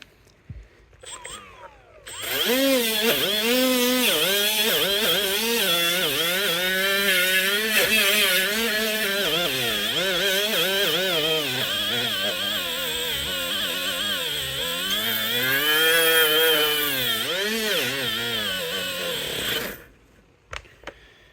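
A Hercules 12V right-angle grinder runs under heavy load, a loud, close, high motor whine whose pitch sags and recovers as it bogs down while cutting, lasting about eighteen seconds before it spins down.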